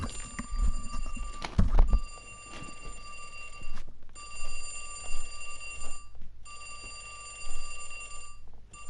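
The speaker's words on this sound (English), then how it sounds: "My phone alarm was going off." A phone alarm rings loudly and repeatedly in steady bursts with short gaps, alone in the room over a bright, tonal electronic chime.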